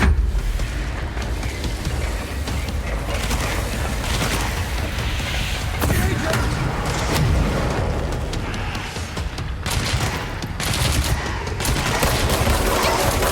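Rapid bursts of gunfire aimed at the player in the video game Control, sustained and dense with heavy booming impacts and overlapping shots throughout, loud and continuous.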